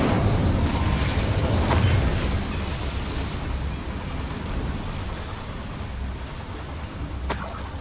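In Hogwarts Legacy, an Incendio fire spell erupts in a dense, roaring burst of flame that rumbles loudly and evenly for several seconds, then fades into a crackling rush with a brief sharp snap near the end.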